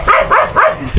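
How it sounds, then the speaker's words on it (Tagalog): Three quick, close barks from a dog in fast succession, short and sharp. "Namiss ko kayo mga aso ha."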